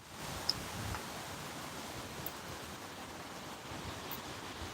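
Water flows over a check dam in a creek, a steady, soft broadband rush that continues evenly throughout with no voices.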